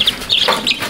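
Polish chickens cluck in a few short, bright bursts close by, with no talking over them.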